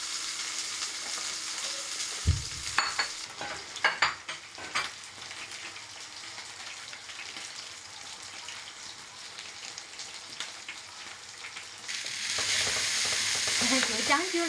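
Steak fries in a pan with a steady sizzle, broken early by a few sharp clatters of utensils, then a louder surge of sizzling near the end.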